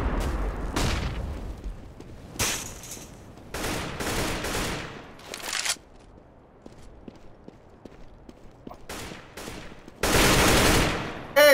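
Counter-Strike GO gunfire comes in several sharp, loud bursts separated by quieter gaps, ending with a long sustained volley.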